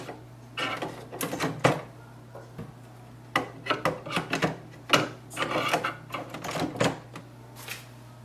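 Plastic clicks and rubbing as HP OfficeJet Pro 9010e ink cartridges are pushed into place one after another, a series of close, short snaps and scrapes with brief pauses in between.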